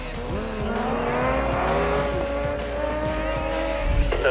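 A motorcycle engine revs hard and climbs in pitch while riding wheelies, loud and close for several seconds, with a rising surge near the end and no one talking.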